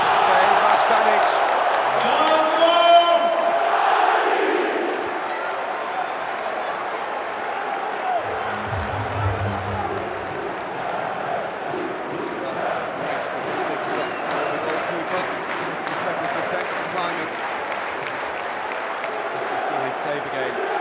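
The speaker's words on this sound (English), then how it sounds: "the crowd getting louder and louder now, really trying to put up the Danes" A handball arena crowd at a Serbia versus Denmark match at the 2012 European Championship keeps up a loud, steady roar with rhythmic clapping and whistles, swelling early then holding under commentary.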